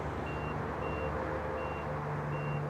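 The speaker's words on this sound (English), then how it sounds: "Gotta wait for 4 beeps" Several short, high electronic beeps spaced evenly apart over a low, steady vehicle hum, from the hands-free liftgate sensor of a 2025 Chevy Equinox RS.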